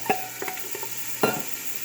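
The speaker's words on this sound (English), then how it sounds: "So our oil should be hot here now, and what we're gonna do is we're gonna add our onions," Onions hit hot oil in a pot as the base for chicken soup, giving a steady close sizzle with a few sharp crackles and pops.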